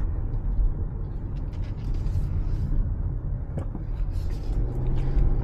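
A 2024 Subaru Forester Touring rolls into a parking lot, heard from inside the cabin as a low, steady road rumble with occasional soft bumps.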